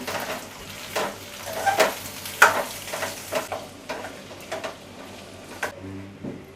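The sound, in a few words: stirring potato mixture with salt in pan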